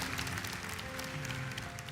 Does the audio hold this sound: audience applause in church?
yes